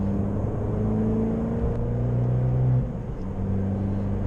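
Abarth hatchback of about 160 horsepower with a Record Monza exhaust in sport mode, a steady droning engine and exhaust note while driving, close and fairly loud, easing off briefly near the end, with no talk.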